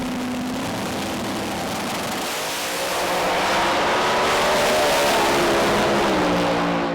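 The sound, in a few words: Ford pro mod drag car accelerating down strip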